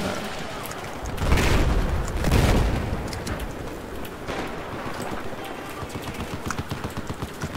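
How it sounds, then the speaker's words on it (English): Sustained gunfire in Battlefield 4 as a weapon's magazine is emptied, with rapid shots over rumbling booms and explosions, loud and dense throughout. "now I'm about to expend all the ammo in this gun"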